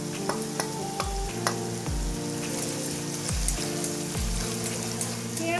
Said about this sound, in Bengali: এবার আমি এর মধ্যে জিঞ্জার গার্লিক পেস্টটা দিয়ে দিলাম